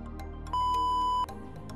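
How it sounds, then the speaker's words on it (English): A single steady electronic beep from a powered wheelchair's R-net joystick control, lasting under a second, rings out clearly over faint background noise, with no voices. "push the joystick forwards for 10 seconds until a short beep is heard"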